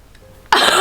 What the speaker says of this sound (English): you just heard me cough